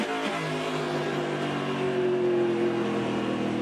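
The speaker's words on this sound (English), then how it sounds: "Listen to the full spin off the corner from Marco" Marco Andretti's race car spins off a corner at Lucas Oil Raceway in a 2021 race, a steady, droning engine note heard from a distance with a faint rising whine.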